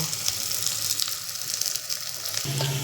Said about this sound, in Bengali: আমি এখানে মাছের তেলেই আলুটাকে ভেজে নেব